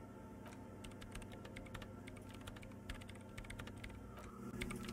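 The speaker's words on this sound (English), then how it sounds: "her hands typing hundreds of commands into the machine" Rapid computer keyboard typing in the video game Disco Elysium, a quick continuous run of light key clicks over a quiet background hum, close but soft.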